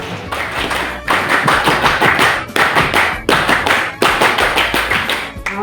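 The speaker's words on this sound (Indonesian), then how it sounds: "Dua kali tepuk pramuka" A group performs the rhythmic scout clap (tepuk pramuka) twice in a row, loud close patterned bursts of many hands clapping in quick sequences with short pauses between phrases.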